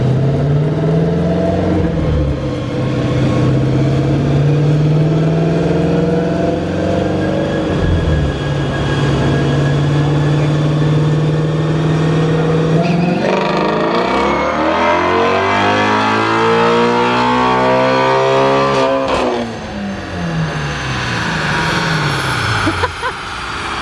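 A 2018 Shelby GT350 V8 revs hard on a dyno, loud and close, its note climbing and falling through several pulls, with a sharp sweeping rise and drop in the middle and then another climb.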